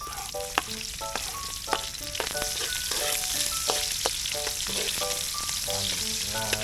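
Garlic and onion fry for pancit canton with a loud, dense sizzle, while a utensil taps and scrapes the pan repeatedly throughout.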